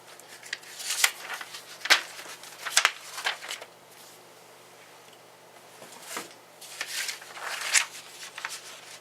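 Vellum paper is cut by hand for an altered box craft. It gives close, crisp snipping and rustling bursts in uneven groups, with a short lull midway.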